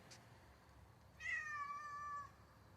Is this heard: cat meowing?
yes